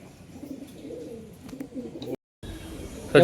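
A roughly seven-year-old tumbler pigeon cooing up close, with soft, low, repeated throaty murmurs over the first two seconds, then a brief silence and a sudden louder rustling burst at the end.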